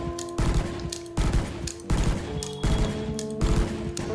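Bulldog rifle in a video game firing in quick bursts, five sharp clustered volleys spaced evenly about once every three-quarters of a second, loud and close with ringing tails.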